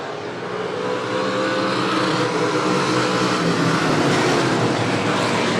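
Justin Naring's blue and yellow number 20 stock car roars at Buena Vista Raceway, a loud, steady engine drone that swells in and holds for several seconds amid the racing field.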